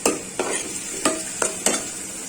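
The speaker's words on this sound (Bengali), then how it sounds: "শুটকিগুলো আমি আগে ভাজে নিচ্ছি, কিন্তু তারপরে একটু তেলে ভাজে নিলে আর একটু ভালো হবে" Dried fish fries in hot oil in a pan with a steady sizzle, broken by about five rhythmic scraping stirs of a spatula, close and alone.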